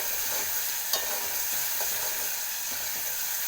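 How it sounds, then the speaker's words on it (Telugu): Tomatoes with ginger-garlic paste frying in a pan, stirred steadily; a constant loud sizzle with a few soft scraping strokes of the spoon, no voices. "అల్లం వెల్లుల్లి పేస్ట్ వేసిన ఇలా కలుపుతూ ఉడికించుకోవాలి"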